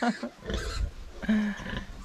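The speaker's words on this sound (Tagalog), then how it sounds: "Ito na mga kasinag yung mga alaga nating mga biik-biik." Young piglets kept on a farm give short oinks and nasal squeals, a few close grunting calls spaced across a brief moment, with some low rustling in between.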